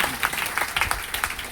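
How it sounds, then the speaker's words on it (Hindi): Scattered hand claps from an audience at a DXN branch meeting in Patna come through faintly as a brief, thin round of applause. "जोरदार ताली होना चाहिए इनके लिए।"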